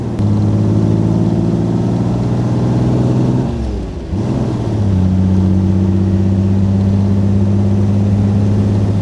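A 1938 BMW 327/28 Sport Cabriolet engine pulls steadily under load while driving, droning loudly and close, with a brief dip as revs fall at a gear change before climbing again.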